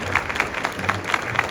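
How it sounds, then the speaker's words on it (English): Audience applause at a Chamber of Commerce keynote: a brief, even wash of many hands clapping together at moderate loudness, with no talking over it. "That was the correct amount of applause."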